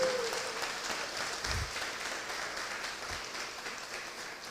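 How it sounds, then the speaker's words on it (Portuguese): Church congregation applauding at a sermon, a continuous wash of many hands clapping at moderate distance, fairly soft and sustained throughout. "Eu queria que você desse um aplauso para o Senhor Jesus"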